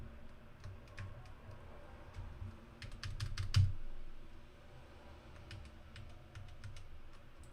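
Someone types on a computer keyboard while programming in Java, producing scattered clicks and quick bursts of keystrokes with a louder cluster in the middle, close to the microphone in a quiet room.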